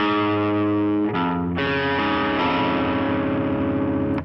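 A distorted electric guitar plays an intro, with sustained heavy chords that shift pitch twice in the first two seconds. It then rings on in a thick, continuous wall of tone.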